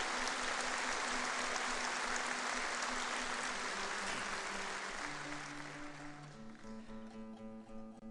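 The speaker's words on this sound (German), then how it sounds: "Applaus bitte." A live concert audience applauds densely and loudly, the clapping fading over the last few seconds as music with sustained tones rises beneath it.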